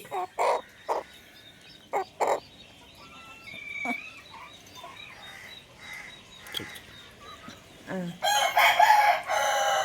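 A native country-breed rooster crows among scattered hen clucks, short loud bursts spread across the clip and a louder, sustained crowing stretch near the end.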